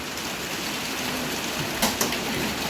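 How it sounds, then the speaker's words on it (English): Steady rain falls in an outdoor farm setting, a soft continuous hiss with a couple of brief louder splashes near the end. "I'm kind of pausing in between the rain."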